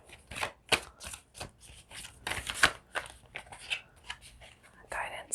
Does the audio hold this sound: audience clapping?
no